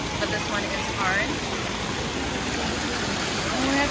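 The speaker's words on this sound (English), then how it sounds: "the nice sounds of the waterfall behind us" Steady rushing water of a waterfall at Epcot during the Food and Wine festival, a broad continuous wash close behind, with faint voices of people nearby.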